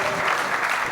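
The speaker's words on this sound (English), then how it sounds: "I think we can give a round of applause for that, please, everyone." Dense audience applause at a charity jewellers' event, a steady wash of many hands clapping together, loud and even for a full second with no break.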